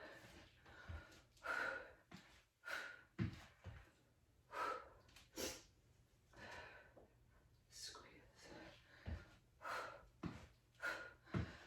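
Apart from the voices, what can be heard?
heavy breathing during exercise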